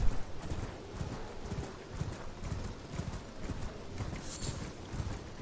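Hooves clip-clop steadily as a horse trots in Elden Ring, a regular rhythmic patter over a dense game soundscape, with a faint neigh-like sound near the end.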